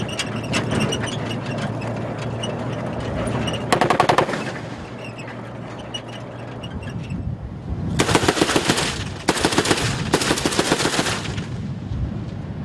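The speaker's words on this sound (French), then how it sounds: "Les soldats effectuent des tirs préventifs pour débusquer l'ennemi." Soldiers on patrol near the Sambisa forest, a former jihadist stronghold, fire preventive machine-gun bursts: loud rapid volleys around four seconds in and again between eight and eleven seconds, over a steady vehicle rumble.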